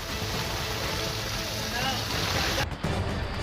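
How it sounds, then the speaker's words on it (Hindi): Heavy rain falling during flooding in Shivpuri, Madhya Pradesh, a dense, loud, continuous hiss of downpour filling the whole scene with a brief dip near the end. "इस बीच रुक रुक कर तेज बारिश का सिलसिला जारी है।"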